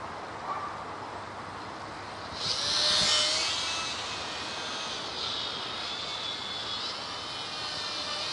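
A small WLToys Cessna-182 F949 three-channel RC plane flies slowly over a front yard with a faint whine, swelling into a louder buzzing pass as it comes near, then fading to a thin distant drone.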